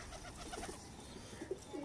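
Salara Teddy pigeons cooing softly, a few low, brief coos rising faintly out of quiet room noise.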